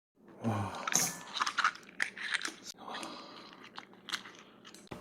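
Crunchy biting and chewing of homemade pumpkin-and-zucchini dumplings with kimchi at a home meal, several close, sharp crunches and wet chewing sounds over about five seconds, with brief speech-like sounds mixed in.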